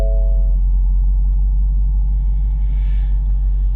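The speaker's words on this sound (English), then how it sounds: "We're just going to start the vehicle now and see if that's worked." Ford Mustang engine after an oil change service reset, a deep steady idle rumble, loud and close, following a brief dashboard chime at the start, with no talking.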